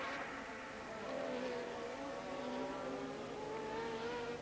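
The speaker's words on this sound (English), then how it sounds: "It's a V6 turbocharged car, the Ferrari. It is a straight 4 turbocharged car, the BMW turbo-powered Brabham of Nelson Piquet" Turbocharged 1983 Formula 1 cars, a Ferrari V6 and a BMW straight-four Brabham, race at the Belgian Grand Prix at Spa. A continuous, droning engine roar has a whining pitch that shifts slightly as the cars run on.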